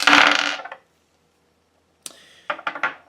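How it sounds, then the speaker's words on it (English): Dice rattle and tumble across a table during a tarot reading: a bright clattering burst, a pause, then a few lighter clicks as they settle, with no talk over them. "Let's see if this dice stops."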